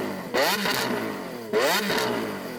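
Lamborghini Aventador S with its V12 engine revving twice in two sharp, loud blips, each rising then falling away, with no talking.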